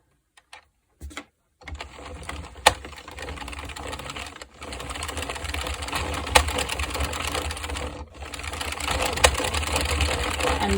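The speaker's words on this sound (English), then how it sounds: "I'm just going to keep cranking until the work falls off." A hand-cranked circular knitting machine rattles and clatters continuously at close range. Rapid mechanical clicking runs on after a few brief starts, with occasional sharper knocks as the needles cycle round.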